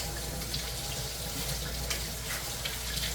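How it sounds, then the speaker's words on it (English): Running tap water splashes steadily as hands are rinsed in a kitchen sink, a constant, fairly soft rushing stream. "Alright, we'll rinse my hands off real quick."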